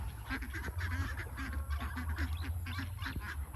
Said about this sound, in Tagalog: mga bibe. Mga itik.